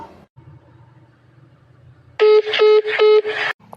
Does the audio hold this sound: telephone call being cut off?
yes